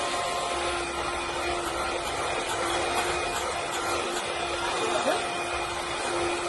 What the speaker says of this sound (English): mix it by hand, but I prefer using the hand mixer